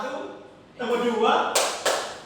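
A few quick hand claps in a classroom clapping game during a microteaching session, coming as separate sharp claps after a stretch of voices, with people talking and chanting around them.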